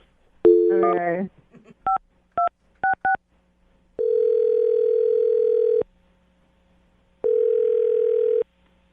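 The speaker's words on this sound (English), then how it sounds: "I'm dialing his phone number right now." A brief burst of touch-tone beeps, then a series of short dialing tones, followed by two long steady tones separated by a pause; one brief spoken word.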